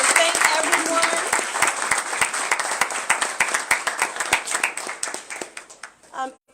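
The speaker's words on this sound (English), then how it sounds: "Let's just hand clap the entire learning community and thank everyone." An audience at a school community funding celebration claps loudly and densely at first. The applause thins into separate, distinct hand claps that slow and fade toward the end, followed by a brief murmur of voices.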